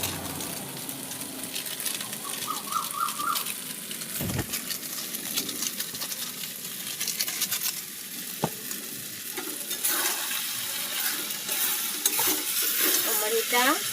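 A rice muri ghonto stirs in a pan after shahi garam masala goes in, with steady sizzling and frying under repeated spatula scrapes and knocks against the metal, close and continuous with a faint voice in the background.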